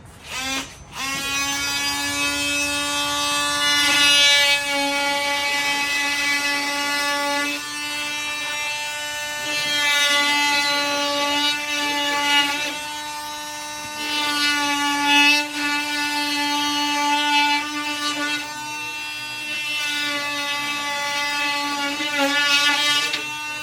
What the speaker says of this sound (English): I'm gonna take the multi-tool real quick and cut that out.